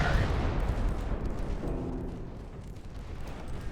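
An 11-inch naval gun fires in the warship game Ultimate Admiral Dreadnoughts, opening with a heavy, deep boom that rumbles and fades into a long, rolling decay.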